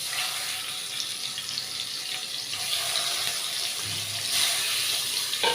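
Pabda fish are dropped into hot oil and fry with a steady, close, bright sizzling hiss that rises slightly near the end, and no one speaks.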